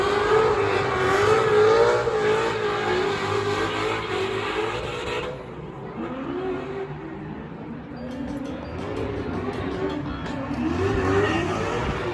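Mustang race cars driven by professionals on a closed course at the SEMA show in Las Vegas roar and rev, engine notes rising and falling as they pass, with faint tire noise and no talk.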